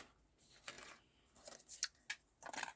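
Scissors snip through paper card stock in a handful of short, crisp cuts at irregular intervals, close and fairly quiet, with small rustles of the card between snips.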